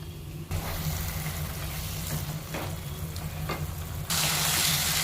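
Salted boiled corn kernels go into a hot kadai of frying masala for a corn curry, giving a steady close sizzle throughout that jumps louder at the start and swells again into a sharper hiss near the end.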